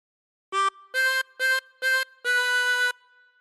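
A phrase of We Wish You a Merry Christmas played on a 24-hole tremolo harmonica: four short notes followed by a longer held one, bright and reedy, close and unaccompanied.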